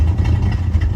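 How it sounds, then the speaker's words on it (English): A 1964 Buick LeSabre survivor car idles low and steady, a close, continuous engine hum with a slight rhythmic pulse. "Look at that low idle, just humming along there."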